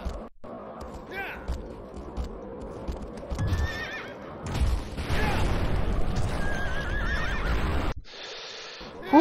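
A horse in Shadow of the Colossus on PS2 whinnies several times, with clip-clopping hooves, rumbling game sounds and occasional booms around it, loud and close through most of the stretch.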